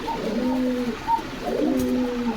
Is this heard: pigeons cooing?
yes